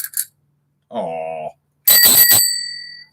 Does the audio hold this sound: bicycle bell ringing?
yes